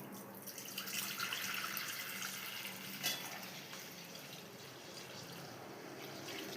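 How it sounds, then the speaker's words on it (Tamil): One litre of milk poured into a pot for homemade palkova, a continuous close liquid splashing stream that swells early then settles into a softer steady pour, with no talking. "இப்போ நம்ம எடுத்து வச்சிருந்த 1 லிட்டர் பால் ஊற்றிக்கலாம்."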